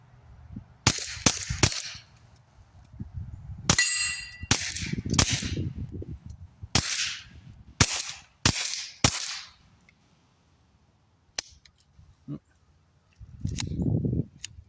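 Quiet, muffled gunshots with Remington subsonic ammunition through an AAC Element 3 suppressor, fired one after another at an uneven pace, with someone talking between some of the shots.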